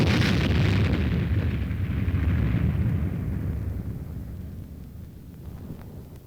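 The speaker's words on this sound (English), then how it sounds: "simulated atomic explosions add realism to the maneuver" Simulated atomic explosion during a military exercise: a deep, rumbling blast that roars for a few seconds, then slowly fades into a long low rumble with wind buffeting.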